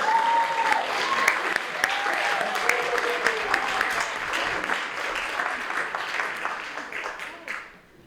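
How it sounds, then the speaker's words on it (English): A pageant audience applauds in a sustained, dense round of clapping that holds steady and then fades out at the end, with some voices mixed in. "Give all of our beautiful contestants a big round of applause."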